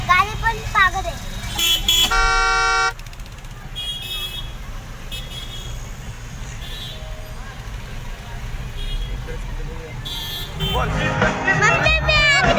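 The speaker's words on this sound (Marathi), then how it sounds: "ट्रॅफिक बघ किती झाले ना. ट्रॅफिक पक्की झाले." Car horns honk in a traffic jam near Badlapur, with long loud blasts early on and more toots near the end over a rumbling traffic background, with voices speaking in between.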